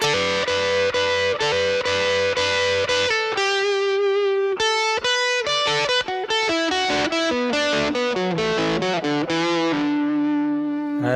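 Slow distorted electric guitar lick from a solo, opening with repeated double stops, then a stacked lick descending the scale, loud and sustained with effects.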